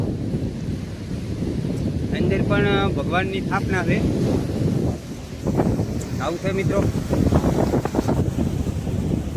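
Wind buffets a microphone at the seashore, with a steady roar of sea waves beneath it, while someone talks throughout.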